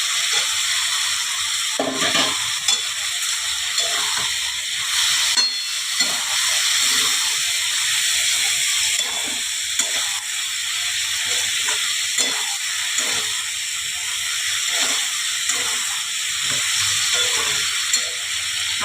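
Prawns sizzle in a hot pan with turmeric powder, a steady close hiss of frying oil with faint stirring, continuous throughout without talk.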